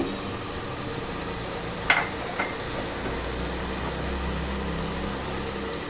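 Paneer biryani is stirred in a pan after spring onions and coriander go in, giving a soft continuous sizzle under a low hum, with two brief sharp scrapes of a spoon against the pan near the start.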